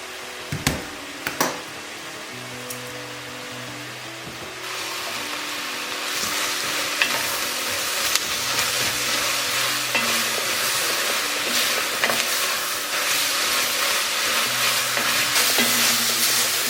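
Celery, celery tops, sage, thyme, rosemary and other vegetables sauté with salt in a pan, a soft start giving way to a steady loud sizzle with scattered stirring clicks and a faint background hum.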